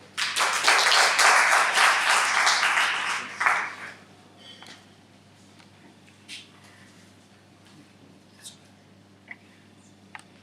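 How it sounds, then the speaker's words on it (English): A Toastmasters club audience applauds to welcome a speaker, a burst of many hands clapping for about four seconds that stops abruptly, followed by quiet room tone with a few faint taps and knocks. "please help me welcome with a big round of applause Toastmaster Robert"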